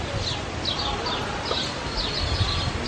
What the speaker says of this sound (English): There's the military macaws up there on the rock there.